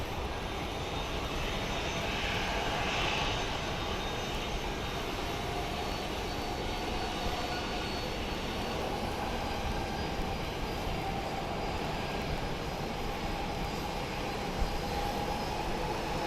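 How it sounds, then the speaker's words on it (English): Airbus A300 jet engines spool up at the gate before departure, a steady broadband roar with a faint whine, distant but constant and unbroken throughout. "looks like an A300 has just come alive"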